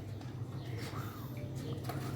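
A pigeon coos softly near a sitting hen, low and faint, with repeated soft calls over a quiet background.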